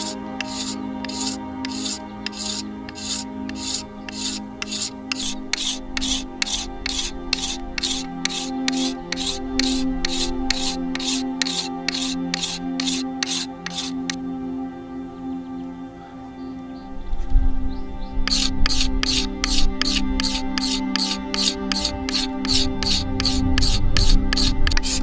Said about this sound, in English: So I'll start the process of slowly removing wood once more using my scraper.